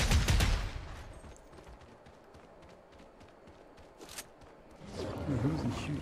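Distant bursts of gunfire rattle in Fortnite, rapid faint shots under a loud thump at the start and ambient noise, with voices and movement rising near the end.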